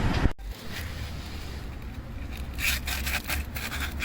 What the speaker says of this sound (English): get as much as that rust off as I can with sandpaper without sanding the actual paint